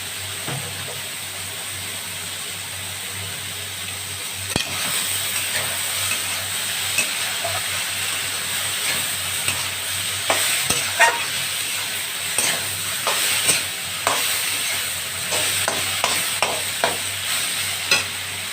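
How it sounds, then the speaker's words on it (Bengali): Small native shrimp and slit green chillies fry in a pan with water lily stems, a steady close sizzle punctuated by intermittent scraping stir strokes, with no one speaking. "এবার আমি এই যে চেরা লঙ্কা দিয়ে দিচ্ছি। আর এবার চিংড়িগুলো দিয়ে দেবো।"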